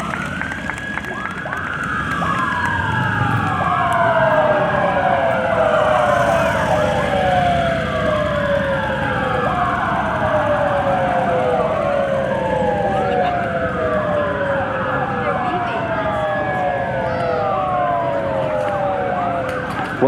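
Sirens of the Seattle Police motorcycle drill team at the West Seattle Grand Parade, several loud wailing sirens rising and falling in overlapping sweeps over a steady crowd and street rumble.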